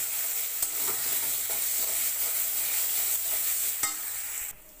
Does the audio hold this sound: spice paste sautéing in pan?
yes